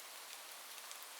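Steady rain falling outdoors, a soft, even hiss of drops with no breaks, faint and close, alone without any voices.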